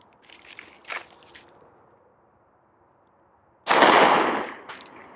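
A 165 grain Federal .40 S&W round fired from a Glock 23 slams into a steel Level III armor plate: one loud, sharp crack with a long ringing decay, preceded by faint outdoor rustles and a quiet pause.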